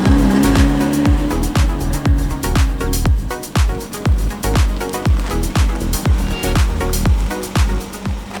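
A widebody Toyota Corolla engine revs hard and roars past in a drive-by, with sharp rhythmic bursts and tire noise, loud and close throughout.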